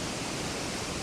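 Paddy's River Falls, an 80-metre waterfall near Tumbarumba, NSW, pours in a steady, dense wash of broadband roar, constant and unbroken with no voices over it.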